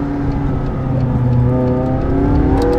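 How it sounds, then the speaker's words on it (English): A McLaren 675LT supercar engine pulls hard on the road, a loud close-up rising drone that climbs steadily in pitch as it accelerates, with no voices over it. "the engine's making a good noise because it pops the ignition on upshifts and downshifts"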